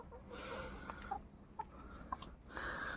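Free-range hens, including young ones, cluck softly and intermittently nearby, short throaty calls scattered over a quiet outdoor background.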